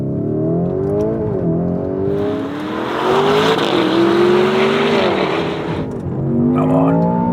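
A Range Rover Sport SV and a Lamborghini Urus Performante roar hard off the line in a drag race, their engines climbing in pitch through several abrupt gear shifts, loud and close with no voices.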